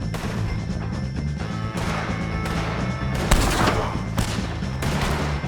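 Dense gunfire in the video game Red Dead Redemption 2 during a fight with O'Driscoll gang members: rapid overlapping shots and cracks over a constant low rumble, loud and continuous with sharper bursts throughout.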